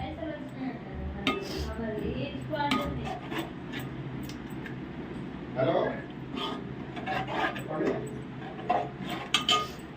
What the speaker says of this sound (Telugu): చింతపండు వేసిన తర్వాత కొంచెం కలుపుకోవాలి